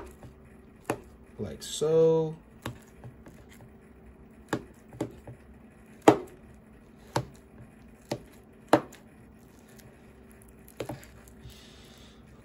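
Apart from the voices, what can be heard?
chopping banana with a spoon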